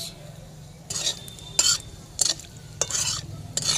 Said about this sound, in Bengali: একটু নাড়াচাড়া করে নিলাম